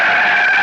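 Car tires skid and squeal loudly in a short, steady screech, used as a radio drama sound effect for a man sprawling into the street in front of an oncoming car.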